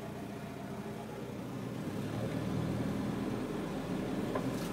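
A 1988 GMC S-15 Sierra pickup truck idles steadily after starting, a continuous low engine rumble heard close up and alone, growing slightly louder toward the end.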